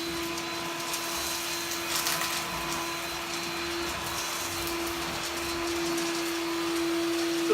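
A Bosch Athlet cordless vacuum cleaner runs at maximum power, giving a steady close motor hum with a constant whine and airy rushing noise for the whole stretch, with no one speaking.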